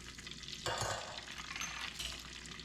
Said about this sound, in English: Then we're going to add the noodles